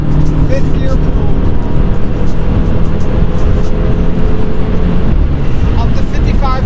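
A BMW F-chassis car with a Valvetronic exhaust pulls in fifth gear, giving a steady, moderate engine drone with road and wind noise and a little talking inside the cabin.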